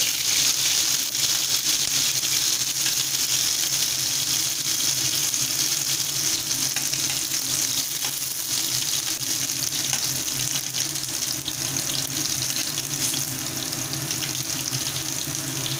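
Food sizzling while being sautéed in a pan for a Bengali soya chunk keema dish, a steady, dense frying hiss that runs unbroken throughout, close and fairly loud, with no talking.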